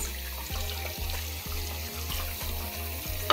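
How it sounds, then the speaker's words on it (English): Warm tap water runs steadily from a faucet over a pair of hands at a sink, a continuous splashing hiss under a faint rhythmic mechanical thumping. "I go ahead and just run my hands under warm water"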